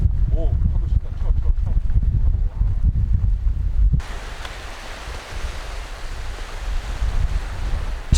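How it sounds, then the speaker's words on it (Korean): Waves wash onto a tidal flat shore on Korea's Gyeonggi Bay coast in Hwaseong, a steady broadband rush with strong wind noise on the microphone, and people talk over the first half. "이 파도 치는데"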